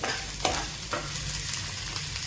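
Finely chopped green chillies and vegetables frying in hot oil for Hakka noodles, a close steady sizzle with a few scraping stirs, no talking.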